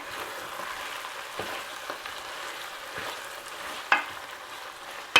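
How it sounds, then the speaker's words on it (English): Sauteed peppers sizzle steadily in a pan, a close, continuous frying hiss broken by a few soft stirring scrapes and two sharper clicks near the end, with no talking. "the peppers have sauteed a couple of minutes"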